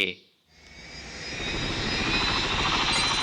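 Helicopter in the video game Crossfire: Warzone, its engine and rotor noise swelling from a brief dip into a steady loud whir with a rhythmic chop, after a moment of voice.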